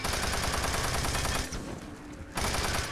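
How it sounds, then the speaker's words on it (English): A machine gun in the Xbox game Doom 3 fires in a rapid, loud continuous burst, pauses for about a second, then starts firing again. "This machine gun. I like this machine gun, let me tell you."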